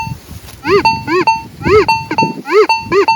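An AKA Intronik metal detector sweeps over a buried Soviet 5-kopeck coin, sounding five loud, close, warbling target tones in a fairly even rhythm with short gaps of quiet between them.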